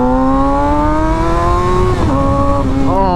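A Suzuki GSX-R600 motorcycle fitted with a new exhaust screams at high revs from close range, its pitch climbing steadily and then dipping briefly with quick shifts or throttle blips near the end, loud and continuous.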